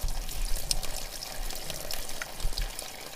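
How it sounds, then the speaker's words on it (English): Water trickling and pouring out of a boat engine block after a drain bolt is unscrewed during winterizing, a steady low splashing dribble close by with no talk. "So unscrew it, you can see the water starting to fall out."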